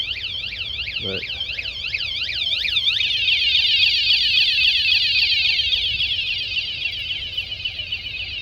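An alarm fitted to a 2019 Pelican Catch 130 kayak sounds off loud and close, first with rapid repeating chirps and then a long wavering warble like a car alarm, with one brief spoken word.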